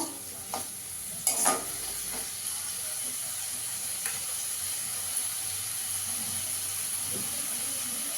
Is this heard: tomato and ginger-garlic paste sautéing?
yes